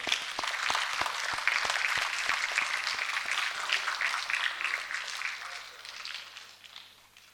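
At the Vartalap event, an audience applauds to welcome Dr. Raju Borthakur as speaker host. Sharp, evenly spaced claps ring out early, then the sustained crowd applause slowly fades away.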